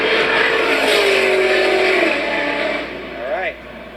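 A loud production car laps a race track at full speed, its engine screaming down the straightaway with a long steady roar and a brief pitch sweep near the end, over constant track noise.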